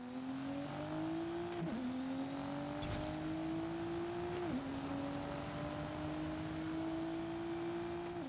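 A car engine in Forza Horizon 5 winds up through the revs, drops sharply at each gear shift and climbs again in a steady repeating pattern, loud and close with no voices.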